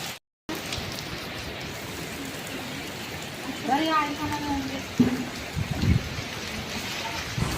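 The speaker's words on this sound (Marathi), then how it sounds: "जोरदार वारा पाऊस चालू आहे." Heavy wind and rain outdoors at a farm house, a constant loud wash of rainfall and gusting air with a few brief knocks and a short whistling sound partway through.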